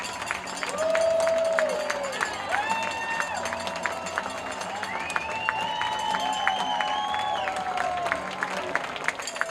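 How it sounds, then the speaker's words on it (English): Crowd noise at a summer collegiate baseball game at Borleske Stadium in Walla Walla after a two-run homer, a steady roar of cheering and clapping with whistles rising over it, lasting throughout. "The crowd loud here at Borleske"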